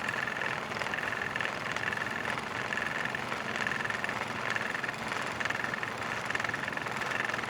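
A Victorian wool spinning machine with Eclipse spindle flyers runs at a mill, a dense, steady mechanical whir with a faint repeating high whine pulsing in a regular rhythm.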